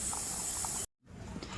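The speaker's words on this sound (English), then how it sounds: "I'm spraying the lube on the chain" Chain lube sprayed onto the chain of a Benelli 600 GT motorcycle: a loud close hiss that cuts off abruptly, followed after a brief gap by a softer second burst.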